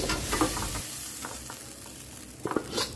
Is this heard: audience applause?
no